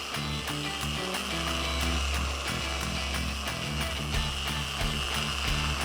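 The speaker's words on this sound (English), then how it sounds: "Buff the paint with overlapping passes until the desired level of gloss and shine is achieved." A Meguiar's MT300 dual-action polisher buffs automotive paint with overlapping passes at about 3800 to 4800 OPM, giving a steady loud mechanical whir with a rhythmic ratcheting pulse throughout and no voices.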